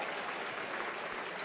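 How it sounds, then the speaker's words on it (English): An audience at an NAACP Freedom Fund awards banquet applauds the evening's award recipients, a brief, fairly faint wash of steady clapping with no pause. "Let's give another round of applause for all our recipients this evening."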